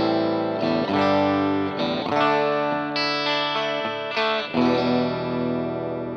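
An electric guitar plays a series of ringing chords with a clean tone and a shimmering effect, heard alone and fairly loud, before any Greenchild Tribus Drive pedal drive is added.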